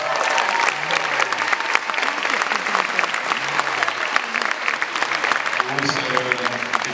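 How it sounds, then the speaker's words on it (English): An audience at a horror film festival Q&A applauds the producers, with steady, sustained clapping filling the room throughout and a few voices rising near the end. "Big round of applause."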